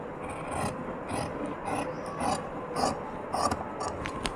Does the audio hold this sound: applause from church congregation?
no